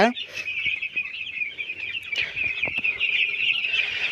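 Thousands of broiler chickens crowded in a poultry shed during hot weather, producing a dense continuous chorus of high cheeping and peeping that fills the space, with faint background noises.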